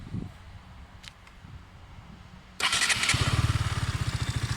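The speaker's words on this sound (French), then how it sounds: "je vais donc vous faire écouter le bruit du silencieux Akrapovic." Quiet background, then a 2017 KTM 125 Duke motorcycle with an Akrapovic silencer fires up and settles into a loud, throaty, pulsing idle with a deep rumbling exhaust note.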